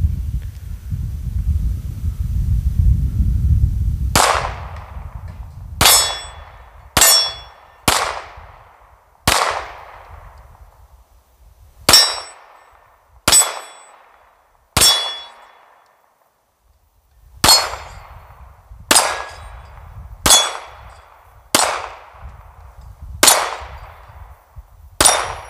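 A 9mm Springfield XDM pistol is fired outdoors in about fifteen sharp, loud shots. They come in irregular bursts with short pauses, each crack ringing with a metallic tail, after a low rumble of wind or handling at the start.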